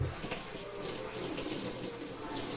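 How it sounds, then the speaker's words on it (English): A kitchen tap runs steadily while hands are washed under it, a continuous close splashing of water with no talking. "I'm going to wash my hand real quick."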